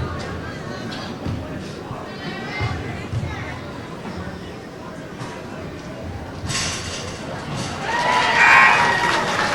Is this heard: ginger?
no